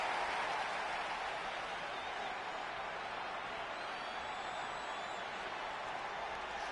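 Arena crowd in WWE 2K20, a steady broad roar of cheering and applause sustained throughout at an even level, with no distinct breaks.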